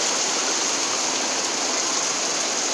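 Heavy rain pours steadily over a village, a dense, continuous hiss close by with no breaks and no voices.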